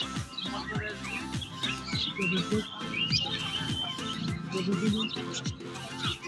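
Many small birds chirp and tweet at a busy bird and animal market in Birnagar, where local and foreign pigeons are sold, a dense overlapping chorus close by.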